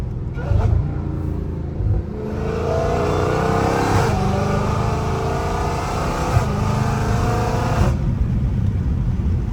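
A Dodge Challenger Hellcat Redeye engine roars loudly from inside the car while driving, holding a steady heavy rev with brief lifts between shifts and near-constant droning power throughout.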